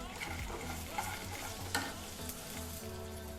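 Urad dal and peanuts fry in a pan, a soft continuous sizzle broken by scraping stirs and a few sharper crackles, close and fairly quiet.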